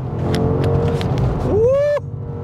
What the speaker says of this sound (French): Vous entendez le moteur qui crie.